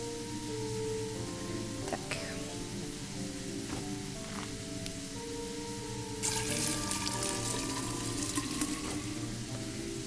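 Running water pours from a tap in the video game Fran Bow, a soft, steady gush that continues throughout. It grows brighter and noisier partway through, and a few faint clicks sit under it.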